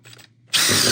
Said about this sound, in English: I'm going to drill a hole there